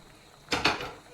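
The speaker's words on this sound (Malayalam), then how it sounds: "നമുക്ക് അടപ്പൊന്ന് മാറ്റിയിട്ട്" A lid is lifted off a cooking pot of boiling Malabar raw mango curry, giving two quick, close metallic clanks followed by a faint rattle, with no voices.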